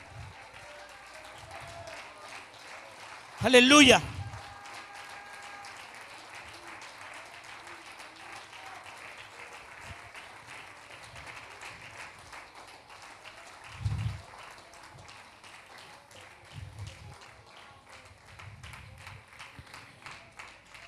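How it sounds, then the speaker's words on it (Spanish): A church congregation claps in praise during a worship service, a steady patter of hands running throughout with a loud, brief cheer-like burst near the start and a voice calling out over it. "Y adóralo con palmas. Palmas de alabanza para el Rey."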